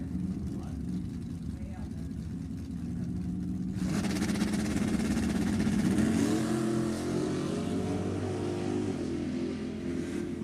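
Two drag racing cars, a 1974 Ventura and a Mustang, launch and roar down the strip, a loud sustained engine drone that swells midway, with an announcer talking over it.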